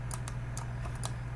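Keys clack on a computer keyboard, a handful of quick, close taps in an uneven rhythm over a steady low electrical hum.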